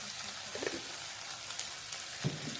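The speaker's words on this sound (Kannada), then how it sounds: "ಸ್ವಲ್ಪ ಎಣ್ಣೆ ಆಮೇಲೆ ಟೊಮೊಟೊ ಫ್ರೈ" Tomatoes fry in oil in a pan while a lady finger sambar is being cooked, giving a soft, steady sizzle with a few faint stirring clicks and no talk.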